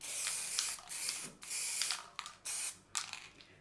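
Acrylic-based paint is sprayed onto a painting in several short hissing bursts from a spray bottle, each about half a second long, with brief pauses between them.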